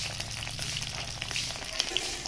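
Desi fish fry in hot oil in a pan in a village kitchen, a steady close sizzle and crackle with scattered small pops, lasting about two seconds with no voices.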